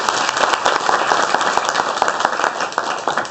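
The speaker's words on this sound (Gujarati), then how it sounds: "એમને આપણે તાળીઓથી વધાવી લઈએ." Applause from an audience at a Diamond Jubilee gathering of a Jalaram community event, sustained dense clapping for about three seconds at steady loudness, with no talk.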